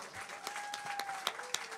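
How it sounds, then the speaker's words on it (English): Applause from the gathered audience at the final session of a Bhaagwat Maha Puraan Yajna at the Shiva Ganesh Mandir, a brief, fairly faint patter of claps with a sustained tone running under it. "Give him a big round of applause."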